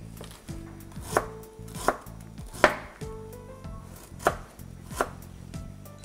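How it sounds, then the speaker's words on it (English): Garlic being crushed for cooking, a run of about six sharp, evenly spaced knocks and thuds against a board, close and clear, with low background music underneath and no talking. "I'm going to crush my garlic"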